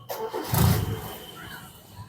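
Timor car engine starting: a short crank that catches into a quick rev, then settles into a softer running rumble, brief and close.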